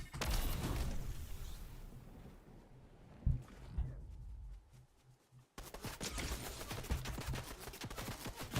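Rapid gunfire from a heavy-recoil gun in Fortnite, a dense crackling burst at the start and again in the final seconds, loud and close, separated by quieter game sounds.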